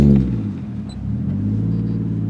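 A Toyota Mark II iR-V (JZX110) 1JZ-GTE turbo engine idles through its exhaust with a deep, steady low rumble and a slight throaty burble, heard close up and alone.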